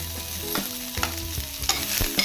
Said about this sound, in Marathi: तेल गरम झालेलं आहे त्यात आपण सर्वात पहिले कांदा टाकूया त्यानंतर अद्रक आणि लसूण